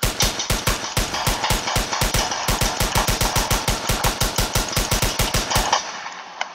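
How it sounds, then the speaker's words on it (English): Rapid automatic gunfire in the Roblox ER:LC video game, a loud, steady stream of about forty evenly spaced shots over six seconds, stopping abruptly with a single faint click after. "Shots fired"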